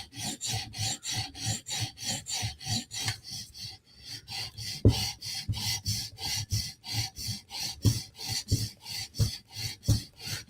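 Knife tip drawn across a sharpening stone with a finger steadying the stone, a quick regular series of raspy scraping strokes, close and fairly quiet, with no talk.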